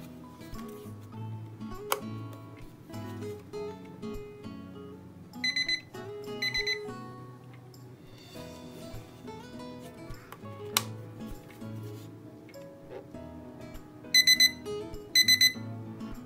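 A Conchstar 60-minute visual timer for kids gives its end-of-countdown alarm as short clusters of rapid electronic beeps, sounding twice and then twice again, over quieter steady background music.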